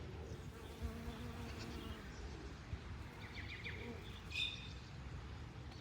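Bees buzzing steadily around blue and white borage flowers in a May garden at golden hour, a soft continuous drone with faint bird chirps in the background.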